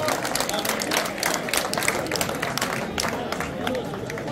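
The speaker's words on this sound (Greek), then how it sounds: "Θερμό χειροκρότημα για τον Γιώργο, που αν και πιτσιρίκι παίζει σαν μεγάλος." A crowd at a village raki-distilling festival claps steadily for a young boy musician, dense and close, with the rapid patter of many hands and a murmur of voices beneath.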